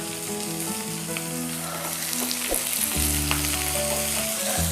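Onions sauté in a pan with salt while squid roast is cooked, giving a close, continuous sizzle with a few light stirs and a steady low hum underneath.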